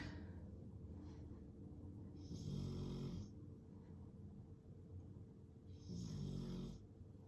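Snoring from a resting dog, two slow, rasping breaths a few seconds apart, close and fairly faint over a quiet background.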